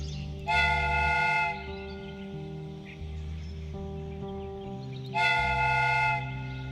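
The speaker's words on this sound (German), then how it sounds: "The steam whistle is ready to be used." A steam whistle on a model train replica in the Sherlock Holmes: Crimes & Punishments video game blows two long, bright, harmonic blasts over a low rumbling engine drone, fairly quiet and with no talk.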